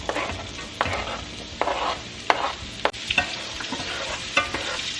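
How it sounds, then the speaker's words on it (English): Chopped onions sauté in melted butter over medium heat after steak has been seared in the pan, a steady close sizzle broken by regular scraping stirs every second or so, with no voices. "And we are just sauteing these for 2 minutes."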